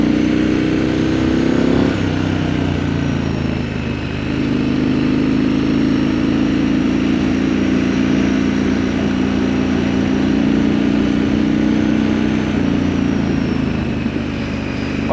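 Triumph Scrambler 900 motorcycle engine ridden along in low gear, a steady, loud, close burbling drone with slight shifts in pitch as the throttle changes, no voices over it.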